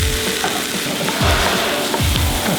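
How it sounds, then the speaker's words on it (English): Onions and peppers sizzle loudly in a pot for chile verde, a steady broadband frying hiss with occasional stirring scrapes and clunks, close and continuous with no talking. "Onions and peppers into the pot"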